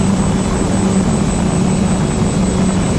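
Propeller of an FPV model plane in flight, a steady loud buzzing drone with a thin high whine, constant and close throughout with no pauses.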